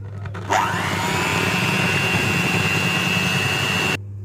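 An electric whisk runs steadily for about three and a half seconds, mixing three eggs into sugar and butter for a lemon drizzle loaf cake. It starts with a sharp whir and cuts off abruptly, loud and close, with no talking.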